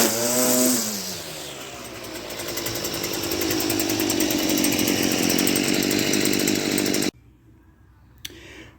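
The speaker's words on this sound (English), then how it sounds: "We're done with the string trimmer." A gas-powered string trimmer revs up from a sputtering start into a loud, buzzing whine that holds steady for several seconds, then cuts out abruptly, leaving a faint quiet tail with a brief click.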